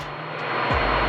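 A Cessna airplane engine climbing out after takeoff, a loud, steady droning roar with a low hum that rises slightly in pitch, heard close from inside the cabin.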